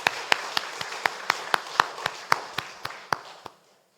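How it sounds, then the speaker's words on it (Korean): Congregation at a Sunday worship service in a church claps in about fourteen sharp, evenly spaced beats that stop abruptly after three and a half seconds, like unison rhythmic clapping in a fairly resonant room. "우리 박수로 축하합시다."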